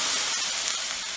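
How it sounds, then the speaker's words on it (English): Liquid jaggery hits a hot frying pan with a bright, steady sizzling hiss, close and loud for just over a second. "The liquid bellam is poured into this"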